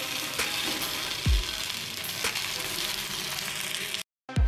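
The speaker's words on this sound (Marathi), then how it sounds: "आपण ह्या ज्या वड्या बनवलेल्या आहेत कॉर्नच्या ते आपण शॅलो फ्राय करून घ्यायचे आहेत" Corn vadis shallow frying in a pan of oil give off a continuous close sizzle, with a few soft clunks of the pan and a short dropout of sound near the end.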